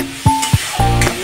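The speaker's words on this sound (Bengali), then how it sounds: "তেলের মধ্যে সব রকম মশলা রেখে দিলাম" Mixed spices dropped into hot oil left in the pan after frying hilsa, giving a few short sizzling bursts with soft clinks between them, close and moderately loud.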